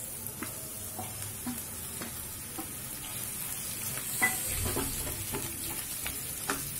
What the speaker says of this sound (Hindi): अब हम इसमें आलू डाल देंगे।